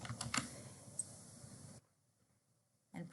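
Quick bursts of clicky keystrokes on a computer keyboard are heard close up, stopping into a near-silent pause before a few more keys are tapped.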